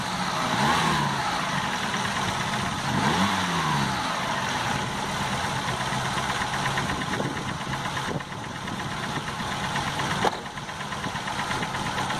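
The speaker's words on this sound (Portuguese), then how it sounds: "Aí dá pra ver o motor em funcionamento" A Ford Del Rey car engine idles steadily close by, a continuous mid-pitched running hum with a faint knocking pulse and a brief louder clunk near the end, no voices.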